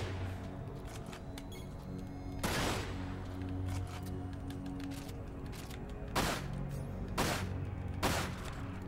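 Machine gun fire in the Dirge of Cerberus: Final Fantasy VII shooter, with rattling bursts over game background noise and several sharper, louder blasts standing out near the start and end.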